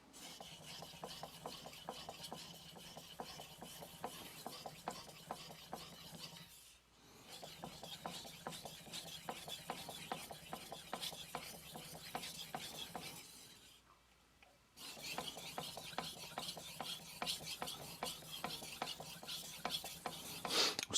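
A kitchen knife is drawn over a 3000 grit Altstone Fukami whetstone in quick, rhythmic rasping strokes, close and faint, in three runs separated by two short pauses.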